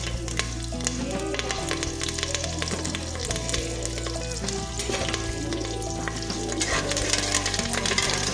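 Cashews and curry leaves sizzling in hot oil for tomato bath, a dense crackling fry with spattering pops and stirring, close and continuous, with no voices.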